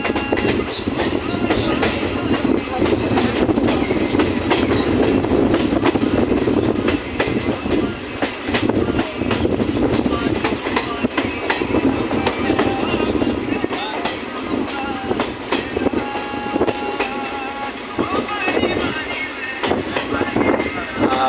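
A train rumbling steadily along its rails through a tunnel with a continuous clickety-clack, heard from inside over a constant low roar.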